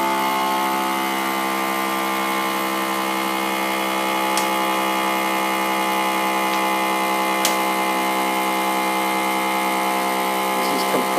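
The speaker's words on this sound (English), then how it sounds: "This is compressing this bag now, pulling all of the unwanted air out of it." A vacuum sealer pump drawing air out of a Mylar food storage bag, running as a loud, steady mechanical hum with harmonic whine for the full stretch, a couple of faint ticks over it.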